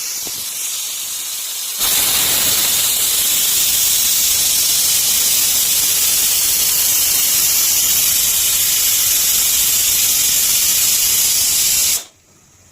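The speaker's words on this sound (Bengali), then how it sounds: "তো বন্ধুরা একবার হয়ে গেল সিটি" A pressure cooker of prawns for a bati chorchori gives off a loud, steady jet of hissing steam as its whistle releases, starting abruptly after a quiet moment, holding at full strength for about ten seconds, then cutting off sharply.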